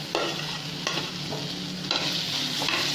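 Mushrooms and tomato frying in a pan, a steady crackling sizzle punctuated by a few scraping stirs of a spoon at irregular intervals, close and fairly loud.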